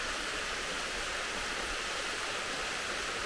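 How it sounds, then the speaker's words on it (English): A hot spring waterfall and river in Shiretoko National Park, Hokkaido, rush steadily up close as an even, hissing roar of falling water with no voices, cutting off abruptly at the end. "So we're all done with the onsen river or onsen waterfall"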